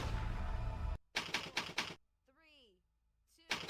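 In the horror game Heaven Dust, a typewriter clacks out a quick burst of key strikes, loud and close, with a brief voiced sound in a quiet gap.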